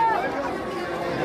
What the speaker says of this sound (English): Look at the crowd, guys.